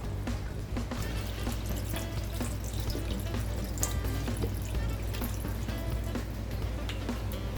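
Water splashes and pours steadily into a cooking pot for lamb shank nihari, a continuous trickling rush over a low background hum.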